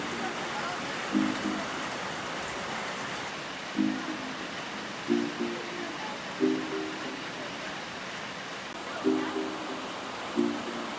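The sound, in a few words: rain falling in the jungle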